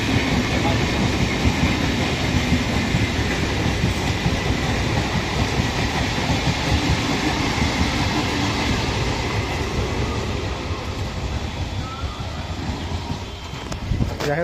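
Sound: train passing at a station

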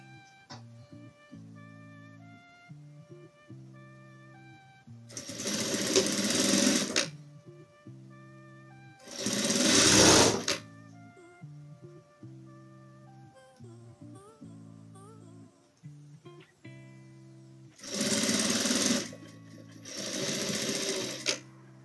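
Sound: sewing machine stitching patchwork fabric strips

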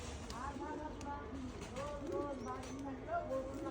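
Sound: pigeons cooing

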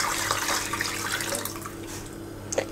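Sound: pouring meat broth into a pot

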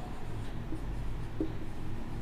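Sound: writing

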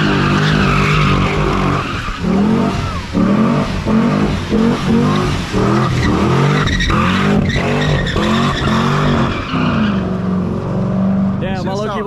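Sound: Chevrolet Corvette accelerating on a dyno with tire squeal

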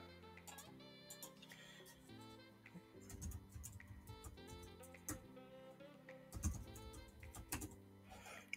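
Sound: typing a password on a computer keyboard

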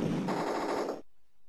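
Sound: gunfire in the Amiga rail shooter video game Rollercoaster Rumbler

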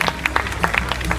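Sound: audience applause at a physique competition

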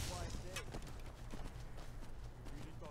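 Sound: horse hooves clip-clopping in Skyrim video game

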